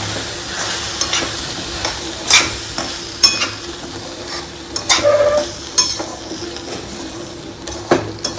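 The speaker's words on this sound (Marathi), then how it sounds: "आता आपण रवा, भाजलेला रवा घालूया याच्यामध्ये. आणि छान मिक्स करून घेऊया." Roasted semolina (rava) is stirred in a pan for upma, giving repeated close scraping strokes over a soft, constant sizzle, with no voices.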